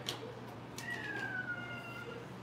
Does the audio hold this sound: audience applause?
no